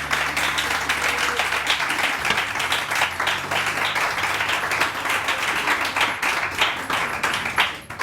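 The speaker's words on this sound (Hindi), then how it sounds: "तालियां जी" Studio audience clapping on a morning television show, a steady dense wash of applause from many hands that carries on without a break and holds fairly loud and even throughout.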